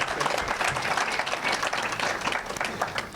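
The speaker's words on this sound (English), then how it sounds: "We need to give clap to her." An audience claps for Esther Passaris at a talk on investing in women, a brief burst of steady, fairly loud applause with no voices over it.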